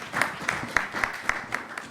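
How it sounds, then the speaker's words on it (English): A panel audience at an event on race and politics clapping for a speaker, a brief run of rhythmic claps about four per second, fairly quiet and spread out, with no talk over it. "Please give her a round of applause."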